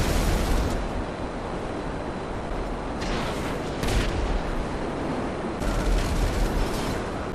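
Booming explosions and rapid gunfire in Grand Theft Auto, a dense, continuous barrage of blasts with several sharper bursts standing out, loud and unbroken throughout.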